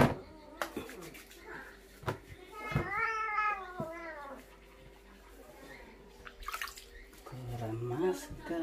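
A Maine Coon cat meows repeatedly in drawn-out, wavering cries while being shampooed in a bath, with splashing water and a person talking nearby.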